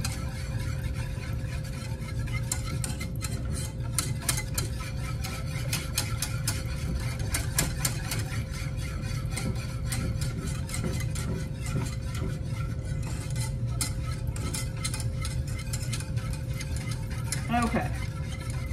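A spoon or whisk stirring milk and cornstarch together in a bowl, a continuous scraping, clinking swirl that runs steadily throughout with small knocks against the container.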